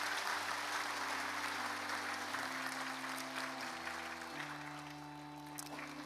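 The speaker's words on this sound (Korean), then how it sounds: "수여하실 때 박수로 축하해 주시기 바랍니다." A church congregation at a Korean Methodist Sunday service claps to congratulate a member being appointed as deaconess, a soft, steady wash of applause beneath sustained organ or keyboard tones.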